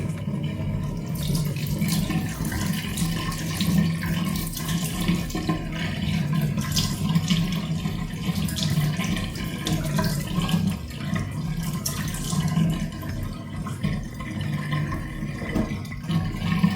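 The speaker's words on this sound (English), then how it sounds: "So I'm gonna first go in and wash my face." Tap water runs steadily into a sink during face washing, a continuous splashing hiss with small fluctuations from hands in the stream, close and alone with no speech.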